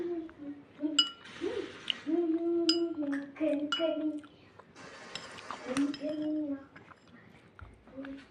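Spoons clink against bowls of malai chop and yogurt, a few light, scattered taps heard beneath steady talking close by.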